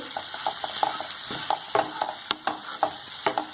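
Soya chunks with tomato being stirred and sautéed in a pan, a soft sizzle behind a quick run of sharp spatula taps and scrapes against the pan, close up and without speech.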